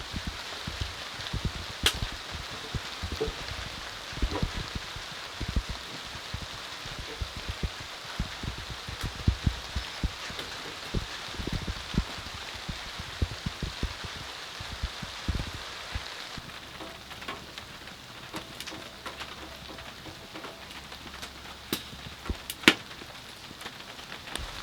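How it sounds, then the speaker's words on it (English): Steady rain patters on a truck camper nearby, with scattered louder drips and taps throughout and no voices. "well it is raining now"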